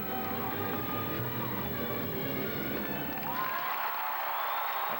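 A college gymnastics crowd at Coleman Coliseum in Alabama applauds and cheers after a floor exercise routine, a broad, steady wash of clapping and voices with a rising whoop partway through.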